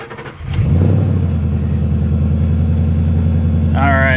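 A procharged Ford Mustang GT V8, a 600+ hp SEMA build, cranks and catches, then settles into a loud, lumpy idle with a steady rumble close by, and a voice briefly speaks near the end.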